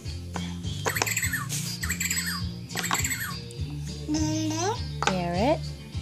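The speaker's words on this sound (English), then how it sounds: "Parrot." Repeated electronic parrot squawks from a children's animal sound puzzle toy, several harsh chirping calls in a row, loud and close, with an adult and someone talking around them.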